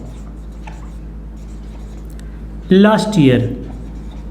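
Faint scratchy strokes of a sentence being written on a board run under a steady low hum, followed by a short burst of someone speaking.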